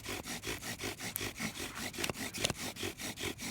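Wooden bow drill spindle rubbing against a wooden fireboard in a steady back-and-forth rhythm, about eight strokes a second, each stroke a dry scraping rasp, close and fairly loud with a few sharp squeaks.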